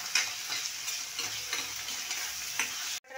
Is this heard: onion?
yes